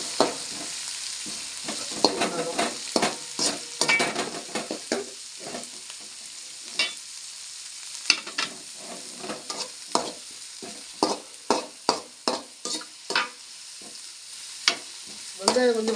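Onions frying for squid curry sizzle steadily in a pan while a utensil scrapes and clatters against it in irregular bursts, heard close with no voices.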